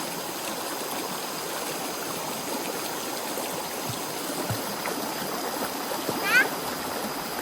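Water streams and splashes steadily as a young child is bathed outdoors, a soft continuous flow with occasional small splashes and no talk over it.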